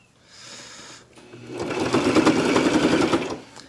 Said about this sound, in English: Still sewing on both sides, good.